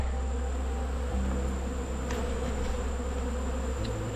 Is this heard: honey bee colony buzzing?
yes